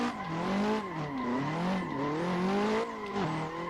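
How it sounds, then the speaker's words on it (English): A virtual drift car's engine and spooling turbo rise and fall in repeated revving sweeps, loud and continuous over a few seconds. "it's nice to be able to hear my engine and my turbo being spooled up"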